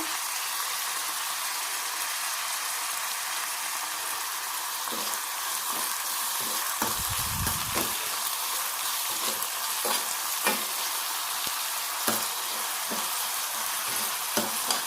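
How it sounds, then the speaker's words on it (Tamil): Steady sizzling of onions sautéing in a pan, with occasional stirring scrapes and clinks, no talking. "ஜஸ்ட் ஒரு 2 நிமிஷம் வதக்கினா போதுமானது."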